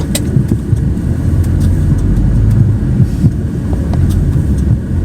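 A truck rumbles over a rough, broken road, with a heavy low drone of engine and tyres and scattered clunks and rattles from the cab and load jolting over potholes.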